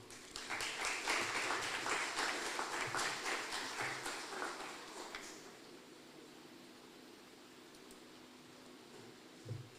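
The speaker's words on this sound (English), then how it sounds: "Let's give her another round of applause." An audience at a school debating competition applauds for about five seconds, a dense patter of many hands clapping that fades quickly into quiet room noise.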